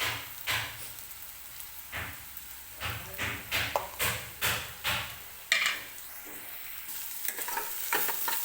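Dry spices (turmeric, coriander powder and homemade red chilli powder) sizzle in a pan while a spoon scrapes and stirs in a quick series of rhythmic, close clacks and scrapes over a soft frying hiss.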